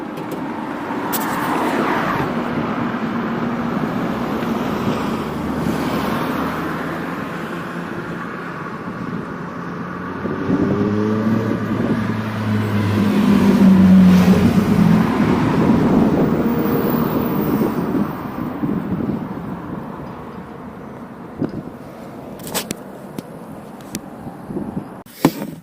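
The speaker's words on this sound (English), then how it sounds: "it's getting pretty noisy out there on the road and the wind's picking up" Steady roadside traffic roar with gusting wind buffeting the microphone, swelling midway and easing toward the end with a few knocks.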